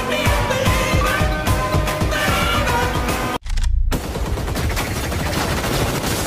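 Firecrackers burst for Diwali in a loud, dense, rapid string of sharp cracks that breaks off for an instant and then resumes just as fiercely.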